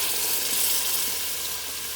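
Vegetable stock poured into a pot of Mexican vegetable soup, a steady close rushing hiss that holds evenly for about two seconds with no talk.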